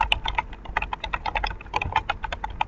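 Rapid, uneven keystrokes on a computer keyboard as a spreadsheet sheet name is typed, close and fairly quiet, with a short pause midway and no talking.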